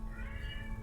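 A cat in heat gives a single drawn-out, wavering meow, close and clear above a low background hum.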